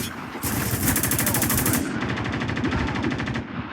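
Rapid automatic gunfire in a video game, aimed at a rope holding two captives, a loud close stream of evenly spaced shots lasting about three seconds without pause.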